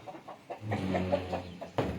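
Free-range country chickens let out of their coop in the morning cluck in a series of short, close calls, with a louder burst near the end and no talk over them.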